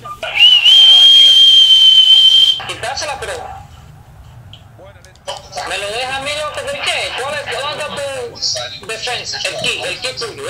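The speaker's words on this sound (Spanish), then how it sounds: "Silbatín en el estadio por él." In the FIFA 18 video game, a referee's whistle sounds in a stadium as one long steady blast over crowd noise, followed by energetic talking.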